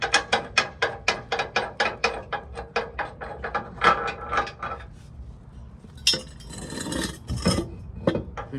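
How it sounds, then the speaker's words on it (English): Socket ratchet removing a bolt from a frame during final assembly: a fast run of evenly spaced metallic clicks, then scraping and clinking of metal parts, close by with no talking. "Take out this bolt."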